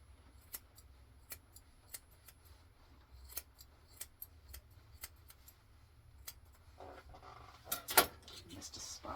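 Scissors trim a poodle's top knot hair in a series of short, faint snips spaced a second or so apart, with rustling and a sharper clatter near the end.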